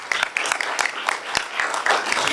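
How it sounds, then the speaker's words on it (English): Applause for the art coordinator at a school Board of Education meeting, a room of people clapping steadily with sharp individual claps popping out of the continuous patter. "I would like to give him a round of applause."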